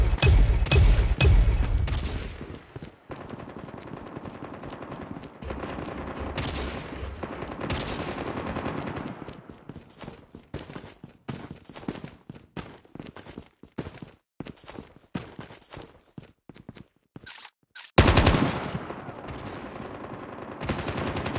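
Rapid bursts of gunfire from the video game Call of Duty, with dense automatic volleys and single shots crowding the scene, loud and continuous with brief pauses.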